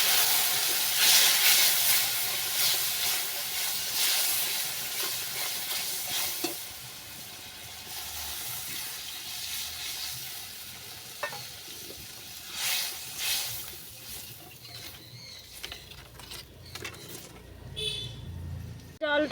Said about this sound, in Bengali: জলটা ফুটে গেছে, তরকারির ঝোলটা ফুটে গেছে।